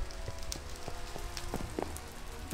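Steady rain falling in the game world of Ardania, a faint, even patter with scattered single drop ticks, soft and continuous without voices.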